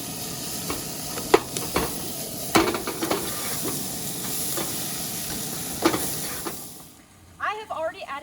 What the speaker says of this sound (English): We are going to cook the diced onions for about a minute until they are translucent